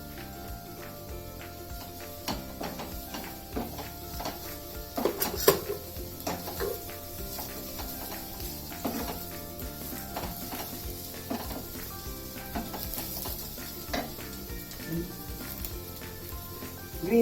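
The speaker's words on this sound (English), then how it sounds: "So now I'm adding cabbage to it." Cabbage goes into a hot pan and is stir-fried on a cooking show, giving a busy sizzle broken by clinks and scrapes of a utensil against the pan and some louder knocks, close up and continuous.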